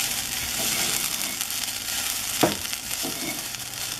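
Dried red chillies fry in a pan for sambol, giving a steady dense sizzle with faint stirring scrapes and a brief sharp clatter partway through, with no voices.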